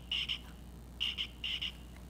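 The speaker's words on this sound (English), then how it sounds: "And that bright blue frog has a button on his back. And if I push that button," A battery-powered bright blue toy frog croaks after the button on its back is pressed. It gives three quick pairs of electronic ribbit chirps, each pair a double burst, clear and fairly close in a quiet room.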